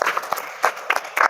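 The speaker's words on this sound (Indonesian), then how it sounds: "Tepuk tangan untuk kelompok 1." Classroom applause for the first group of students, short bursts of clapping from a class of children, loud and close, with a few brief pauses between bursts.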